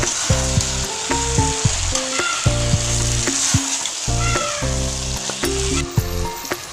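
Vegetable biryani masala sizzles in a hot pan while being stirred and mixed. Loud, close frying crackles run throughout, broken by repeated scraping and clanking of a spoon against the pan, with no talk.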